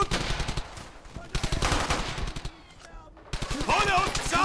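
Rapid bursts of machine gun fire rattle close by in several volleys in the video game Brothers in Arms, separated by short gaps, with shouted Polish voices mixed in.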